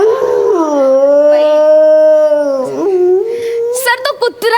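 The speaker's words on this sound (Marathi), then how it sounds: "सर, तो कुत्रा आहे." A dog lets out one long, loud, wavering howl that rises and holds, then breaks into shorter yelping cries near the end.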